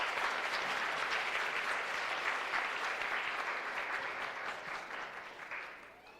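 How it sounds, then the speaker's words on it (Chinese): Guests at a wedding ceremony clap in a dense, sustained round of applause that slowly fades out. "掌声欢迎"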